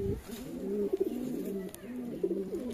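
Domestic pigeons coo in a rolling, repeated murmur, several soft calls close by, with brief voices in the background.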